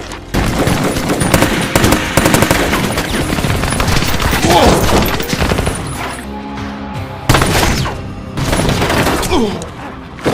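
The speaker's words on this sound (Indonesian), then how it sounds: "ia langsung menembaki mereka tanpa ampun" Gunfire from a sniper in a film scene, with dense bursts of loud shots and impacts crackling over several seconds, separated by brief lulls and mixed with other film sound.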